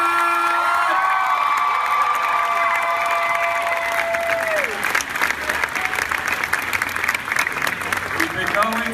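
A convention crowd cheers and applauds loudly and steadily for an actress walking onstage at a fan-convention panel, with an announcer's amplified voice ringing over the first few seconds.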